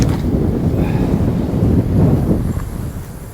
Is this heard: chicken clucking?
no